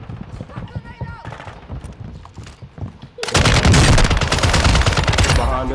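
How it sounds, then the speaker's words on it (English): Rapid automatic gunfire from Call of Duty: Modern Warfare II, a loud dense stream of shots that cuts in after a player talks over quieter game sounds and keeps rattling to the end. "how am I not shooting him, but he's shooting me?"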